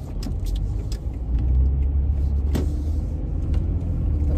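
A jeep rumbles past at speed, a steady loud low-pitched engine and road roar filling the whole stretch with a brief sharper clatter midway.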